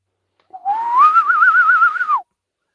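A person whistles an imitation of the signal whistle used by the hunters in The Last of Us: one close, sustained whistle that rises and then warbles, lasting under two seconds, with no other sound around it.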